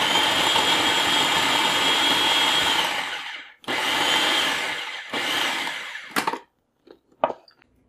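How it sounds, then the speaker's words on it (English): A food processor pulses a cup of flour, a stick of butter and a quarter jalapeno, sending out several loud whirring bursts: one long run, then shorter pulses that taper into brief, quick stops. "you're just going to pulse this 1 cup of flour with the 1 stick of butter and the 1/4 of a"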